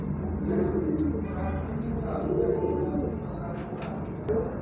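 Pigeons, purebred Rampuri and Ferozpuri types, coo softly in repeated low rolling phrases close by, with faint background noise and no clear talk over them.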